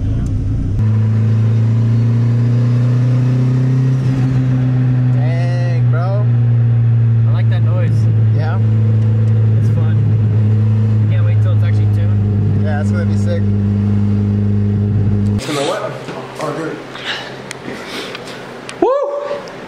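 Engine of a budget Honda Civic wagon idling with a steady loud drone, rising under gas and rumbling continuously while people talk nearby, then cutting to quieter surroundings.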